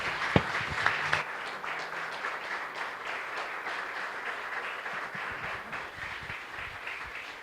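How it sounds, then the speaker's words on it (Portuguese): A church congregation applauds during a service, sustained, dense clapping that runs evenly throughout, with a few sharp, distinct claps near the start. "Vamos aplaudir ao Senhor Jesus"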